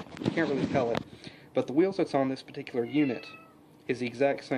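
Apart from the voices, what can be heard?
cat meowing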